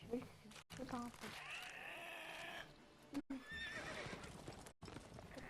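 A horse in The Witcher 3 whinnies loudly while hooves clip-clop along, with short gaps of silence breaking the sound.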